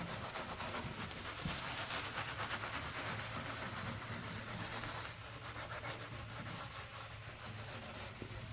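Kitchen cabinets are sanded by hand with sandpaper, giving a steady, continuous rasping rub that stays loud and close throughout, easing slightly in the second half, with no talking.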